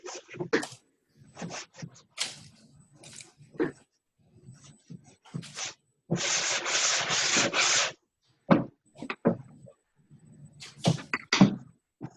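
Sanding with a sponge over a surface, a steady dense scratchy rubbing burst of about two seconds, close and fairly loud, set among quieter intermittent scraping and handling noises.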